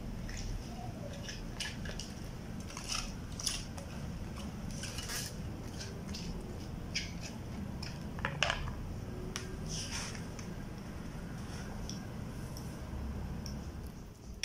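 Utensils clink and scrape in a bowl as seasoned broccoli is tossed for a broccoli omelette, a run of light, irregular metallic ticks over a steady low kitchen hum.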